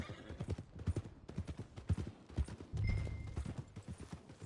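Horse hooves clip-clop at a steady walking rhythm in Red Dead Redemption 2, close and fairly quiet, with a brief whinny and soft game ambience in the background.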